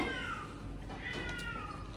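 A cat that is hurting gives repeated drawn-out meows, close and fairly clear against low background noise, with rising and falling pitch across two seconds.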